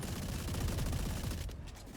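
Gunfire from the tactical shooter Valorant during a collegiate esports match, a dense run of rapid shots and bursts that stays loud and steady before easing off slightly near the end, with no talking over it.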